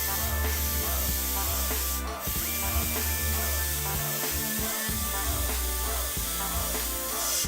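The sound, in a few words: airbrush spraying paint through a stencil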